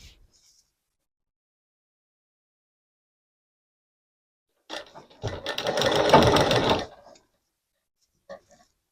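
A sewing machine stitches a fabric frill in one close, steady burst of about two seconds, set in near silence and bracketed by faint clicks.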